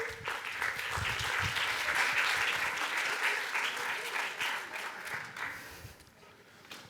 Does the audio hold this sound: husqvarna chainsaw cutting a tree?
no